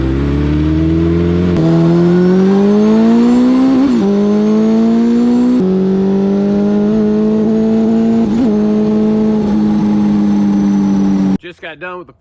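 A Rush SR race car fitted with a Suzuki Busa engine warms up, its loud, close engine holding a steady tone, then revving up and easing off in several swells before cutting off abruptly.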